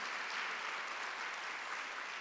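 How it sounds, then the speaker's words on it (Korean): A congregation applauds during a Korean Sunday worship service, a dense, steady wash of clapping that holds at an even level throughout without a break. "박수 하나 더 주세요"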